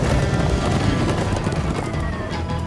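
Horses gallop in Minecraft, a dense, continuous clatter of hooves with a rushing wind-like background, loud and close throughout.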